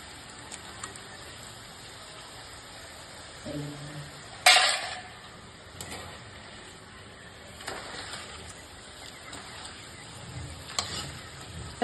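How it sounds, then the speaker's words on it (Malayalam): Jackfruit pieces deep-fry in hot oil, giving a steady low sizzling hiss with occasional clinks and stirring sounds from a utensil. "പൊരിഞ്ഞ് വന്നിട്ടുണ്ട്. ഇത് നമുക്കൊന്ന് ഇതിന്ന് എണ്ണയിൽ നിന്ന് കോരിയെടുക്കാം."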